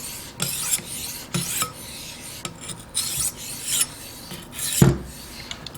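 Knife edge drawn across a stone on a TSPROF guided sharpening system, a run of about eight distinct rasping strokes in a steady rhythm, close and clear with nothing else over them.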